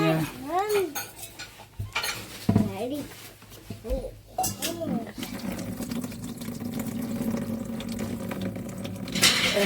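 Water is poured into the tank of a household air cooler in a village home, a steady gushing splash building after a few clinks and some brief talk.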